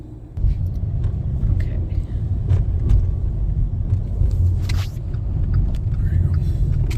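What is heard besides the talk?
car driving on highway with metal road surface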